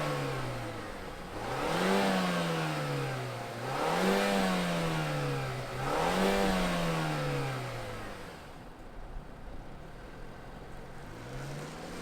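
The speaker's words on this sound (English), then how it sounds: "let's fire it up and hear what kind of noise it makes" 2022 Mazda 3 Turbo four-cylinder engine, heard nearby outdoors, revved three times in a row, each rev rising and falling smoothly, then settling to a steady idle with one more short rev at the end.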